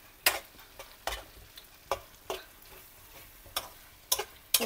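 Small potato cubes for aloo qeema are stirred in a pan with a spoon, giving a series of sharp scraping clinks at irregular intervals over a quiet, faint sizzle.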